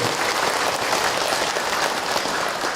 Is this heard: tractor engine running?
no